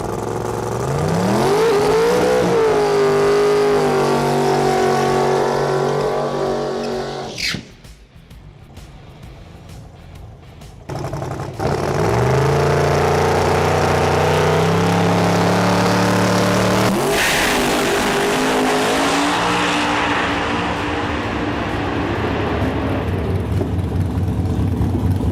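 A Red Victor race car engine runs down the track, loud and close, revving with climbing harmonic pitch. It briefly drops away partway through, then roars back and holds at high revs to the end.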